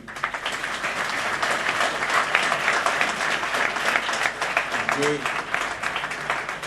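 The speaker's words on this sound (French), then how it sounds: "vous demander de l'applaudir" An audience at a formal ceremony in Senegal applauds a public servant, a sustained wash of clapping from many hands, loud and even throughout, with a brief voice rising under it near the end.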